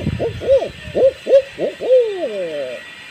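A man imitates a barred owl, voicing a rhythmic run of about six hooting calls that slide downward, the last one drawn out and fading. The calls are loud and close against a faint steady hiss.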